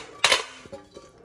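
A 4.5-litre Tefa stainless steel pressure cooker with a thick steel body is handled, giving one sharp metallic clank followed by a few faint knocks, close up.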